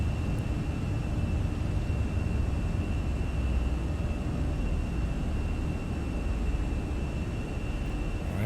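A Fenix A320 airliner takes off in Microsoft Flight Simulator, its engines a steady, loud, broadband roar with a faint high whine that holds evenly throughout, with no voices.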